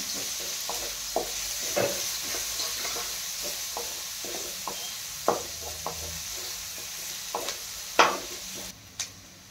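Onion fries in a pan for zunka, a soft continuous sizzle broken by repeated scraping stirs and clinks of a spatula against the pan, close and unaccompanied by speech.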